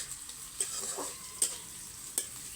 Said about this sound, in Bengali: মরিচ বাটা হলুদ বাটা আদা রসুনের পেস্ট দিয়ে কষালে